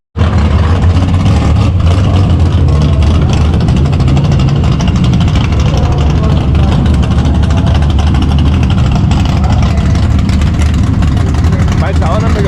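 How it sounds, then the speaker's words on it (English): A drag car does a burnout with its engine revving, producing a loud, close, continuous roar that starts abruptly and holds at full intensity the whole time. "I think Justin's about to do his burnout."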